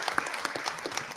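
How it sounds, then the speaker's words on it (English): Applause from a school board meeting audience honoring retiring school employees, a brief burst of scattered clapping from a room of people. "Let's have a nice round of applause for all of our employees represented by the"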